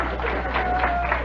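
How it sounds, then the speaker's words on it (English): Studio audience applause during a 1966 radio monologue, a brief continuous wash of clapping and crowd noise at moderate loudness, without speech. "All right, you can applaud, it's all right."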